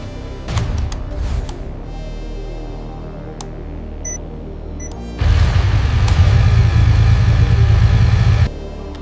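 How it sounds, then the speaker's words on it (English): A Kawasaki Z650 motorcycle engine fires up for the first time during factory testing, with a few sharp clanks and clicks first, then a steady, loud, close idle that runs for several seconds before cutting off. "The engine of the Kawasaki Z650 is started for the first time under controlled factory testing."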